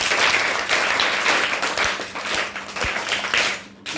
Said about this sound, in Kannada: ಜೋರಾದ ಚಪ್ಪಾಳೆ ಸರ್